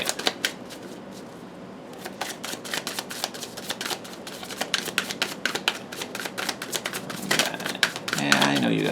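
Tarot cards are shuffled and flicked in a rapid clatter of sharp papery snaps, dense and close, building toward the end where a voice breaks in.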